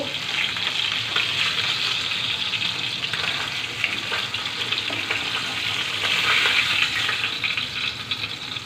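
Rohu fish sizzles in hot frying oil as it is lifted out, a steady, bright crackling fry that swells slightly toward the end, close and continuous with no talk.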